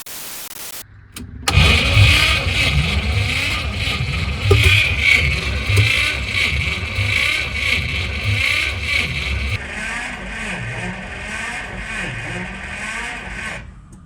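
The starter cranks the V8 engine of a Volga car in a long, rhythmic churning run of rapid pulses after a sharp onset, loud and close, without the engine catching.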